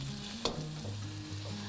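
Diced red and green peppers fry in a wok for a Chinese takeaway-style dish, giving a steady close sizzle with one sharp clatter of stirring partway through, then continuing evenly.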